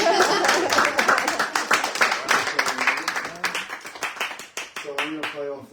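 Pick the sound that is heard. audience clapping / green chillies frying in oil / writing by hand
audience clapping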